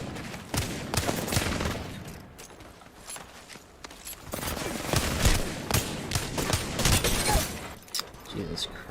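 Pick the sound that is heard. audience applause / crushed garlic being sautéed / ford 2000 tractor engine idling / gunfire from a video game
gunfire from a video game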